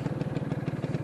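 Classic Vespa scooter engine idling close by, a steady low pulsing putter with even rapid beats, no talk over it.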